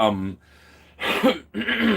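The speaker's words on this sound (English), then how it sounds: "sorry about always clearing my throat, guys" A voice trails off, then a person clears their throat with a couple of rough, raspy bursts before speaking again.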